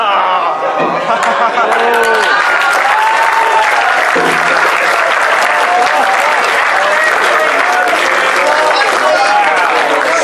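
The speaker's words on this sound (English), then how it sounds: "Slow down that clap a little." A large audience applauds at the IFC 2018 closing ceremonies, a dense, steady roar of clapping that runs loud and unbroken throughout, with voices and a few cheers mixed into the crowd noise.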